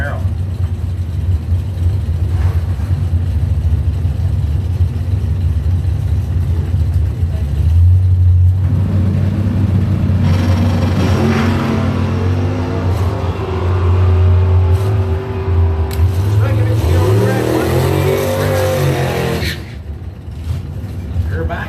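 A 1967 Chevrolet Camaro doorslammer drag car races at a strip with loud, sustained engine roar and rising revs, while a public address announcer talks over the noise throughout.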